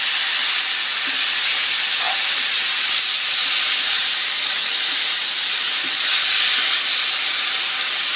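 Red chilli and tamarind pickle cooks in a pan over low heat, giving a steady, close broadband hiss and sizzle with no breaks and no voices.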